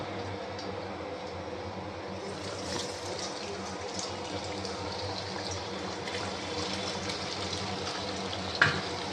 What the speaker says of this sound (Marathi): तर मी एक सोडते, आपण बघू. तेल गरम झाले का, हे उडण्याची शक्यता असते